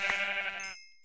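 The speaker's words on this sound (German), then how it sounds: "Wir haben die Schafe." A single sheep in the video game Minecraft gives one clear, close bleat about a second long, with no talk over it.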